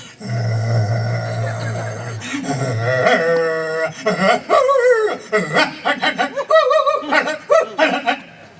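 A stage performer imitates dogs barking and yipping with his voice, a run of sharp, loud bark-like bursts in quick succession, close and clear, preceded by a sustained low vocal tone.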